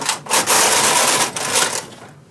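White Magic knitting machine knitting rows of a tuck stitch pattern: steady raspy mechanical whirring and clacking as the carriage is pushed across the needle bed, with brief dips between strokes and a trailing quieter end.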